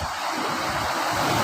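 Sea waves crash near where a river empties into the ocean, a loud, steady broadband roar of surf mixed with wind buffeting, no speech.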